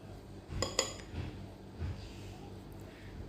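A small teaspoon clinks sharply against a dish a few times while chicken and shrimp siomay is shaped, two bright metallic taps close together followed by softer scraping and handling noises.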